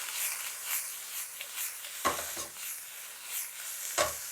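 Sliced kangaroo meat sears in a hot pan as it is tossed, a soft steady sizzle broken by two louder jolts of the pan and some quieter stirring scrapes, with no voices.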